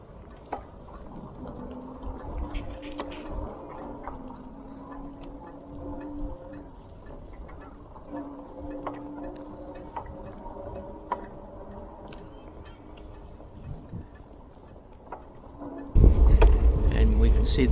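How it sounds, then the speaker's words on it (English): A steady, faint electric bike motor whine hums beneath the ride on the way to a park, with small ticks and rattles throughout and a loud burst of wind-like rumble in the final seconds. "Some of the background sounds are the motor on my e-bike."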